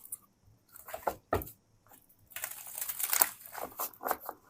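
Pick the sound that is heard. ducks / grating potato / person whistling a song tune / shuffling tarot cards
shuffling tarot cards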